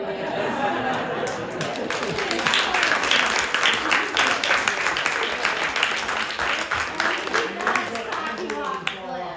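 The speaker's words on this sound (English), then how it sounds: "I want to applaud Anthony" A theatre audience at City Garage claps in a dense, continuous patter of many hands. The applause swells slightly midway, with voices and chatter mixed in beneath it.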